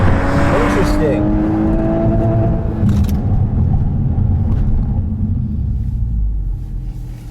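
A 2022 Volkswagen Golf R is driven on a race track, its engine droning steadily with a rising whine and a brief surge, loud and close with rushing wind and rumble throughout.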